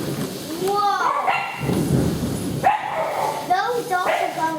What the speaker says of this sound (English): Those dogs are going like crazy from that thunder